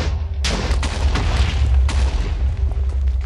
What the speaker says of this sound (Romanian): vreau să văd explozia